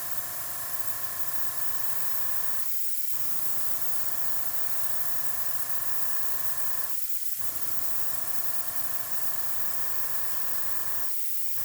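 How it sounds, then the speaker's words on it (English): Steady, close hiss of an airbrush blowing air across wet alcohol ink petals, with three short breaks where the airflow pauses. "I am pointing the airflow more towards the center of the flower, and as the alcohol starts to dry, I move the airbrush up"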